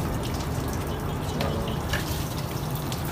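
Running shower water splashing steadily while puppies are bathed, a continuous close wash of spray and drips with no pauses across the stretch.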